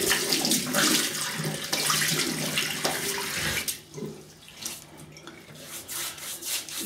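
Tap water runs steadily into a sink while a face is wetted for shaving, a close, full rush that breaks up into splashing and uneven trickles partway through.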